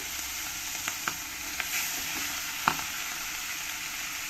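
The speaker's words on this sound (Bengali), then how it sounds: "এই মাছগুলো আমি ভালো করে ভেজে নেব" Pieces of rohu fish fry in hot salted oil, giving a steady, moderately quiet sizzling hiss with a few faint pops and light scrapes, heard alone.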